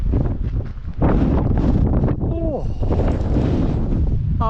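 Strong gale-force wind roars and buffets the microphone at the Mull of Galloway, a loud, constant rumble with gusty surges and brief whistling tones, close and unbroken throughout.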